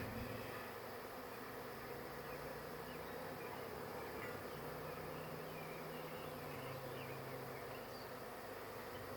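A honey bee swarm buzzing around a hive box outdoors, a dense, continuous drone of many wings that stays soft and steady throughout with no voices.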